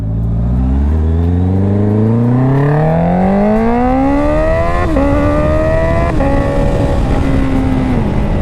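A Honda CBR650R E-Clutch motorcycle with an SC Project exhaust revs up through the gears, its loud, raspy inline-four note climbing steadily in pitch with two quick shifts, close and continuous.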